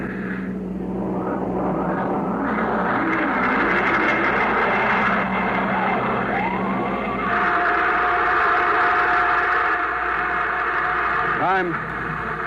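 Rocket engine blast from a radio drama space flight to the Moon, a sustained roaring rush with warbling tonal sweeps that rises and holds, ending abruptly.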